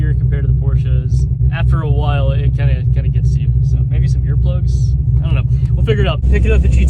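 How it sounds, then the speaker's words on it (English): A Chevrolet Corvette C6 Z06 with its LS7 V8 engine gives off a steady, loud, low rumble throughout, with someone talking over it. "man, does this Corvette sound good"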